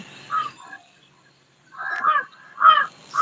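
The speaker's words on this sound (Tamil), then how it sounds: "காக்கா கத்துற சவுண்ட் எல்லாம் கேளுங்க" Crows caw nearby in short harsh bursts, a few calls separated by brief quiet gaps, loud and clear.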